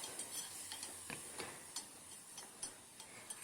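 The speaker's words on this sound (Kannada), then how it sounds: "ಹಾಕ್ಕೊಂಡು 1 ನಿಮಿಷ ಫ್ರೈ ಮಾಡ್ಕೊಳ್ಳಿ." Tamarind extract frying in a pan for drumstick rasam, a soft, faint sizzle broken by light, irregular ticks and clicks of stirring.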